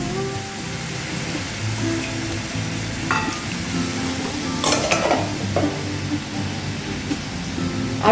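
Water poured into a pan of sizzling potol kofta curry sets off a steady frying hiss with stirring scrapes, the bubbling swelling briefly midway as the liquid hits the hot oil.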